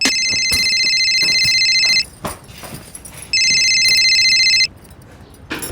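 A telephone rings indoors in two bursts of bright electronic trilling, each about one and a half seconds long with a pause between. Faint background sounds fill the gaps.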